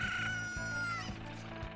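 A video game chicken clucks and squawks in rapid bursts, close and clear, over a looping game soundtrack with rhythmic low beats.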